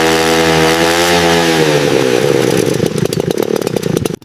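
Old Yamaha Cub50 moped, smoky and worn, its two-stroke engine held at a high-pitched screeching rev before dropping into a rough, sputtering idle, loud and close.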